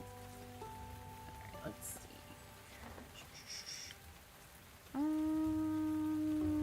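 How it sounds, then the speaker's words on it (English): Steady rain patter falls over a video game scene, a constant wash beneath a quiet voice, with a low tonal hum and a brighter sustained tone rising near the end. "Well, it's raining today."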